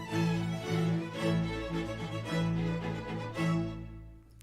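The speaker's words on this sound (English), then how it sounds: "The smallest and highest of all is the violin, then comes the viola, the cello, and the largest and lowest of all is the bass. And here is how the strings sound." A string section of violin, viola, cello and double bass plays sustained, tuneful phrases in swelling bowed notes, moderately soft and alone, fading at the end.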